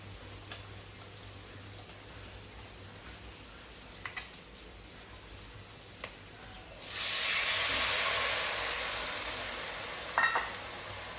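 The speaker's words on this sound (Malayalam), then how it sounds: "ഇനി നമുക്ക് മോരൊഴിച്ചു കൊടുക്കാം" Buttermilk poured into a hot pan for a moru curry sets off a sudden, loud, sustained sizzling hiss after a quiet stretch, easing slightly as it continues.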